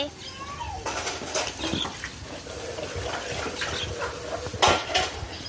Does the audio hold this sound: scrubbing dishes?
yes